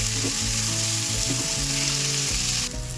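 Onions frying lightly in a pan for a chicken kali mirch, a steady close sizzle running throughout with no talk, a brief change near the end.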